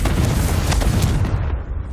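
A fire-blast spell explosion in the Hogwarts Legacy video game: a loud, dense, booming burst with crackling spread that dies away over about two seconds, no talking.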